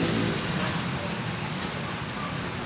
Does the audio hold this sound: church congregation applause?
no